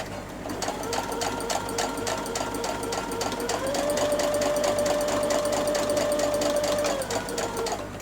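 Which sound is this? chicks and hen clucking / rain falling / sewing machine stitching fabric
sewing machine stitching fabric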